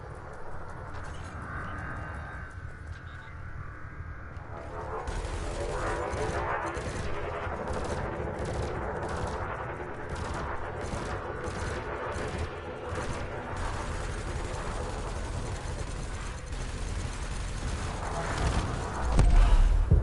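Rapid multi-cannon fire from a spacecraft in the Elite Dangerous space combat game, aimed at a target drone during training: a dense, continuous stream of loud repeating shots over a steady engine hum, building to a final burst.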